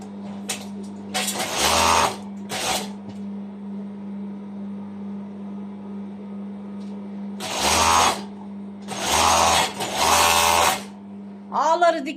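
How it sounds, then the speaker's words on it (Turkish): An overlock sewing machine stitches trouser fabric in several short, loud whirring bursts separated by pauses. A steady low hum fills the gaps, and someone talks between the bursts. "Overlock'umuzun ayarı çok sıkı."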